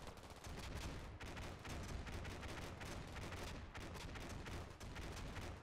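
Grenades launched by infantry in the modern combat game Combat Mission: Black Sea crack out among dense, continuous battlefield gunfire, a rough rapid clatter of blasts and shots that stays loud throughout.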